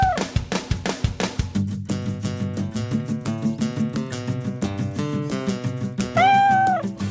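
In a cat farm's living area, a single rising-and-falling cat meow comes near the end, over a loud, rhythmic musical backing that fills most of the clip.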